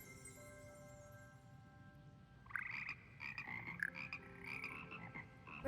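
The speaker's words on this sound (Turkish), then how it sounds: "Kurbağa korosu." A frog chorus croaks in Hogwarts Legacy, a dense layer of rhythmic croaks and chirps that swells after a soft start and then continues steadily at moderate volume, with no talking.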